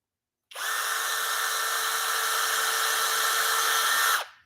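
A power drill with a bent bit bores a hole for a DIY wooden Christmas tree, a steady high-pitched whine with a gritty edge running loud and continuous for about four seconds before cutting off.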